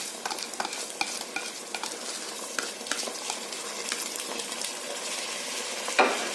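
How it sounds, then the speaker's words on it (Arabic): Lentils and rice sauté in oil for Egyptian koshari while a utensil stirs them, repeated scraping strokes over a light sizzle, ending with a sharp clink against the pot. "ونقلب، نسيبه يتشوح كده شويه"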